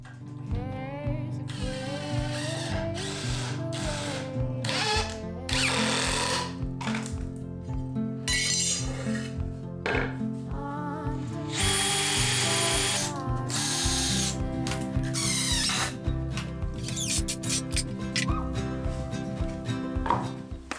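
Screws being driven while building miter saw stand boxes with 2.5-inch screws: a loud, steady run of mechanical clicking and whirring drill bursts, one after another, close by with no talk.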